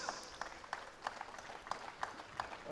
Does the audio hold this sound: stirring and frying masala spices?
no